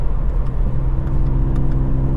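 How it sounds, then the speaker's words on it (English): Tuned 265bhp Mk8 Ford Fiesta ST accelerating in racetrack mode, a loud, steady low engine drone with a strong hum heard from close up inside the car, with no talk. "You can feel the car surge forward with the throttle mapping."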